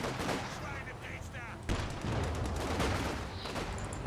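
Gunfire from an armoured car in Company of Heroes 2 crackles through a busy battle mix, with scattered shots and a sharper burst midway over continuous rumbling combat.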